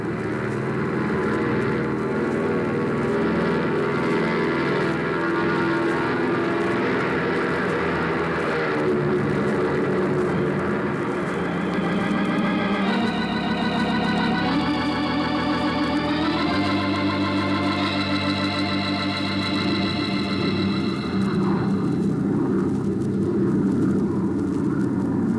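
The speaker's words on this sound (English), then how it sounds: "Ready for takeoff." Propeller airplane engine from an old-time radio drama, a steady loud droning roar that rises in pitch partway through as the plane takes off, running continuously for the whole stretch with no talk over it.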